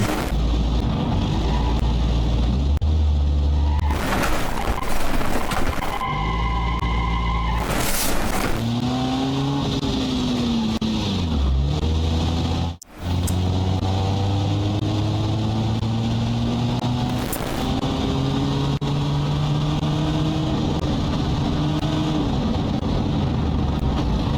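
Brutta Grander car from the BeamNG.drive game, a modded model with an inline-4 engine and 4-speed automatic, being driven: loud continuous engine drone rising through gears with shift dips, tire squeals and a brief cut partway through.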